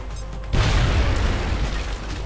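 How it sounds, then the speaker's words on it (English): A grenade goes off in XCOM Enemy Unknown, a single loud, deep blast after a brief quiet lead-in, followed by a sustained rumbling roar of debris that fades only slightly. "Use the grenade. Maybe you'll blow up his cover."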